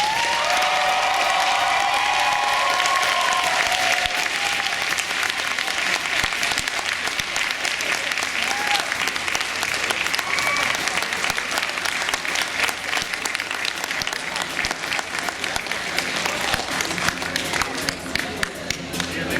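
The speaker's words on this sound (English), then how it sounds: "How about a round of applause for all of our graduates?" Graduates at a Vancouver Community College convocation are met with sustained applause from a large audience, a dense steady wash of clapping lasting nearly twenty seconds, with some murmured voices mixed in.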